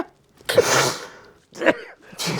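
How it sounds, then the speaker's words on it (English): A person lets out a sharp, close sneeze, odd and partly held back, followed by further breathy bursts and gasps. "That's a sneeze."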